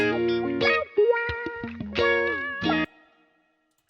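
A distorted, effected synth melody with a single harmony layer plays a bouncy line of short and sustained notes, loud and close, with echo, before stopping abruptly into near silence.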